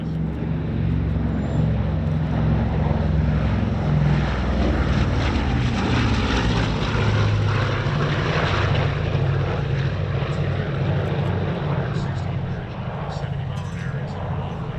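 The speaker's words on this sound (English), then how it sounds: "B-29, let's listen." Four radial propeller engines of the B-29 bomber FiFi drone loudly and steadily in flight at a WWII Weekend air show, a dense continuous roar with deep pulsing hum that eases slightly near the end.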